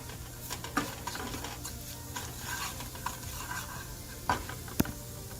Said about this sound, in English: Fry it with the garlic clove.